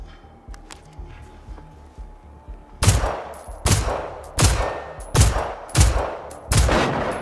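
Gunfire in Generation Zero aimed at robots: after a quiet stretch with faint ticks, six or seven loud, evenly spaced shots ring out close by, each with a short echoing tail.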